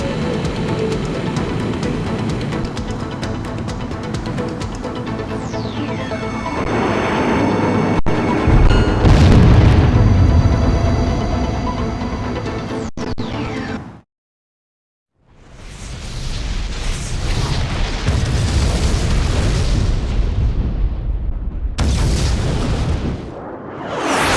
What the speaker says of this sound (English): The shot cannon is preparing to fire again!